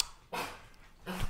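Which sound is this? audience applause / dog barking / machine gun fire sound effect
dog barking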